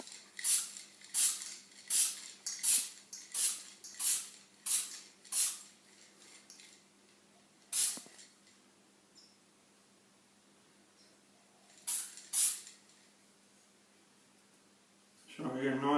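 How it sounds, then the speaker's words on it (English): Short bursts of a spray can laying a light primer coat on a Dalek gun part: about eight quick hisses in a row, then a pause and a few more spaced bursts, close and fairly loud, with no voices over them. "firstly I'm just going to spray it with primer"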